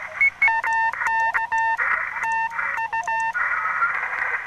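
Keyed radio tones on an amateur band during a field day, steady pitched beeps in irregular on-off bursts of varying length over a constant band hiss, fairly loud and close.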